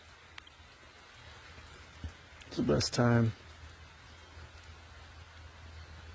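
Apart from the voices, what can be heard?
light jungle rain drizzle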